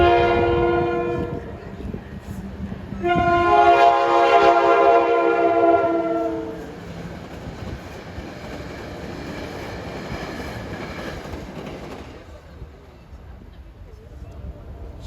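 An NJ Transit GP40 diesel locomotive revs up as it departs toward Allendale in Upper Bergen County, New Jersey, its loud harmonic engine drone swelling then easing into steady rumbling rail noise.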